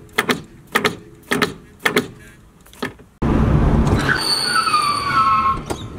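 A Nissan Skyline fitted with S14 Silvia brakes runs through a few short repeated mechanical clunks, then a loud burst of tyre noise with rising squeals as the wheels lock up.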